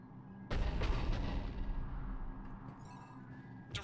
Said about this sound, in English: Commander, cruiser initiating bombardment.